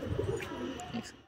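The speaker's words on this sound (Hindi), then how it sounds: "भरसा चीना और सफेद चीनी मादी में ये कबूतर है" Pigeons in a high-flying pigeon loft coo softly at close range, with a few low, rounded calls and light chirps mixed with faint background murmuring.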